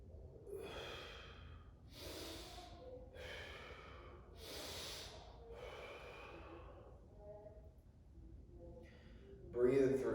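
Deep, audible breaths drawn and released in slow succession during a pain-relief stretching routine, close to the mic over a low steady room hum, ending in a louder burst.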